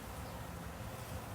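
Bees buzz in a backyard, a faint, continuous, even hum with no voices.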